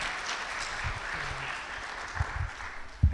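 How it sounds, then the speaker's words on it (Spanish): A seated audience at a conference on dual pathology gives a guest speaker sustained applause after he is introduced; the clapping is steady and moderately loud, with a few louder claps near the end. "quisiera que le recibamos con un fuerte aplauso después de un largo viaje."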